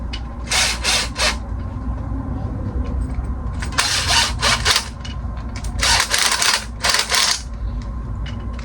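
An old Makita power tool driving fasteners on a 1964 Chevy C10 panel truck under rust restoration, heard as several loud, close bursts of whirring and rattling impacts separated by short pauses over a steady background hum.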